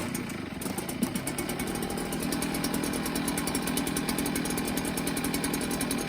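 A small leaf blower engine runs with a steady, buzzy two-stroke rasp right after its carburetor fuel line was replaced. The sound is continuous and close, with no voices.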